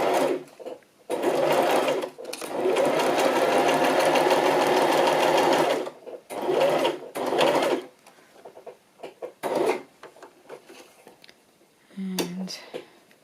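A sewing machine stitches in loud, close whirring runs, one long burst and several shorter ones, then sputters into brief stops and starts; a voice is also heard.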